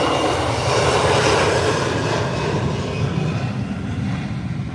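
An American Airlines jet taking off from Howard Hamilton International Airport, a loud sustained engine roar with broad rushing noise that holds steady and begins to fade slightly toward the end, with no voices.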